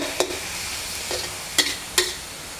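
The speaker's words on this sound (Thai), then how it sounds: "แล้วก็ผัดต่อ" Pork being stir-fried in a wok for a quick basil stir-fry, with four separate scraping clacks of the spatula against the pan over a steady, quiet sizzle.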